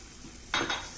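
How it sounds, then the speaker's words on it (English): Psyllium husk being stirred in a pot on the stove: a faint soft cooking hiss, then a brief scrape and clink of the utensil against the pot midway, close and quiet. "I'm going to continue stirring it until it becomes binded together."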